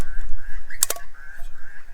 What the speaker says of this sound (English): that bird you can hear in the background, that's a butcher bird